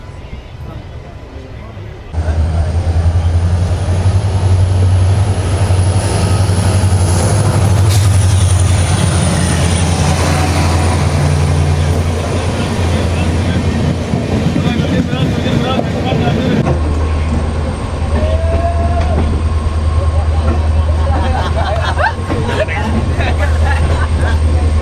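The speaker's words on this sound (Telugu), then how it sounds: "ఈ లోకోమోటివ్ డైరెక్ట్ విశాఖపట్నం దాకా అయితే పుల్ చేస్తుంది" Electric locomotive hauling the Silchar–Coimbatore express, heard from inside a crowded general coach: a loud, steady rolling rumble and hum that kicks in after a quiet start and carries on without a break.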